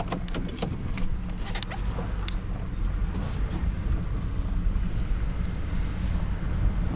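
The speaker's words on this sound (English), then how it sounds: "I'm driving down the road." A 2006 Buick driving down the road produces a steady low engine and road rumble with wind noise, loud and continuous throughout, with no talking.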